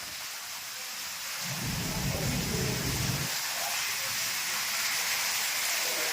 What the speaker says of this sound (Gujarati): જોરદાર વરસાદ, બે કાંઠે પાણી આવ્યું જાય છે, આપ જોઈ શકો છો।